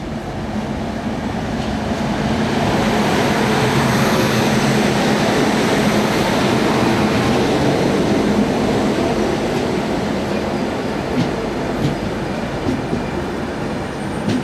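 The Rajdhani Express, hauled by locomotive 37784, rolls toward Alappuzha station with a loud, continuous rumble of wheels on rail and faint rhythmic clatter, heard steadily from on board.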